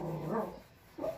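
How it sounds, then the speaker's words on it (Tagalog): A dog barks indoors in a home where someone is putting on makeup: two short, fairly close bursts about a second apart, separated by a quiet gap. "Maingay yung aso."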